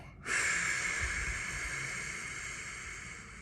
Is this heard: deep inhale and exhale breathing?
yes